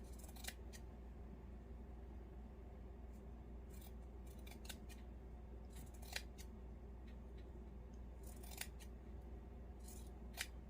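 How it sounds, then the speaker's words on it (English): Scissors snip out pointed shapes in craft material for a Grinch-style gnome, a series of sharp, close cuts coming in irregular clusters over a steady low background hum, with no talking. "you're going to go in at an angle, and then you're going to cut that out"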